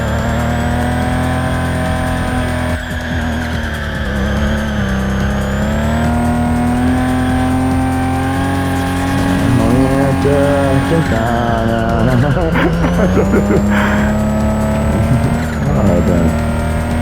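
Engine of a car in the video game Tokyo Racer revs in a continuous high whine, rising and falling through gear changes as it drifts, with squealing tires and occasional voices in the background.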